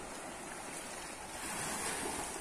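Ocean waves break along a beach on the Trilha das 7 Praias coastal trail near Bonete, Ubatuba, Brazil, as a continuous roaring surf that swells slightly louder toward the end, with no one speaking.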